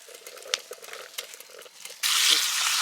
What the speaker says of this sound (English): put it on the fire, and see what our bacon and eggs look like